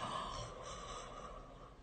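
A person gives one wide, drawn-out yawn during a mouth and jaw exercise. It is a single continuous breathy sound that stays close and fairly even, with nothing else heard around it.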